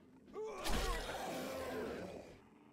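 A zombie in 7 Days to Die gives a single drawn-out, rasping groan-like snore lasting about two seconds, fairly close and alone.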